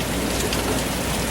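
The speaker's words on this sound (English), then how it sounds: "it's just pouring like crazy" Heavy rain pours steadily during a tropical depression, a dense, continuous hiss of downpour that stays loud and unbroken throughout.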